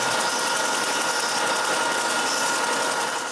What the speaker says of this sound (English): I go back to the sander just to be sure they're the same size.